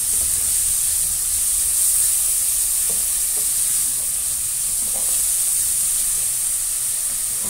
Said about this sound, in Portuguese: A gente dá esse refogado nela aqui, para ela murchar bem aqui